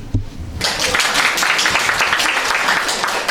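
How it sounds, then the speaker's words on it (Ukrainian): Audience applause at a presentation of a short stop-motion animated film, a dense, steady wash of many hands clapping that bursts in after a brief lull and holds loud and even throughout. "Оплески."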